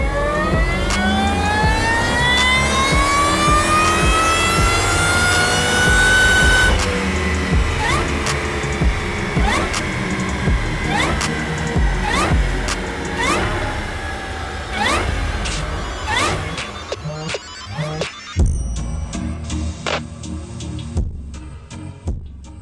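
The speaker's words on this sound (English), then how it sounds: "Stephen goes through the gears to see what the XKR is now packing after all our hard work" A manual-converted Jaguar XKR engine revs hard through the gears, rising in pitch with each pull before short shift breaks, loud and close, then settling into quieter clicks and idle.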